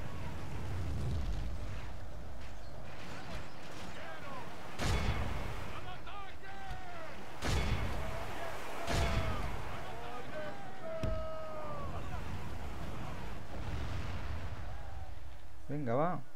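Cannon blasts and gunfire ring out in the video game The Total Conquest, with several heavy booms spaced irregularly over a rumbling battle bed while someone talks throughout.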